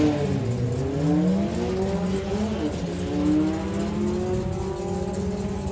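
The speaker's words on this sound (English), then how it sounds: "There's lots of RPM going on in that Mustang." A drag racing Mustang at a Doorslammers event revs its engine hard, with rising and falling high-RPM tones in repeated sweeps, close and loud.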